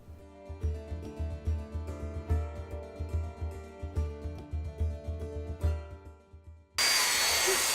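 A Dremel rotary tool grinds and carves into a wooden St Patrick's Day door sign in close, loud bursts that rise and fall in a stuttering rhythm, ending in a sudden steady high-pitched whine.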